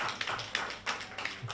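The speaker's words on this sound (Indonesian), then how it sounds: "Kita kasih tepuk tangan yang luar biasa." Applause from an audience at a mall product launch event, a burst of many hands clapping close by with uneven peaks, lasting only a moment.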